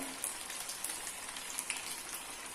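Sabudana wadas fry in hot oil, a steady bright crackle and sizzle with scattered pops running evenly throughout, close and alone with no talking.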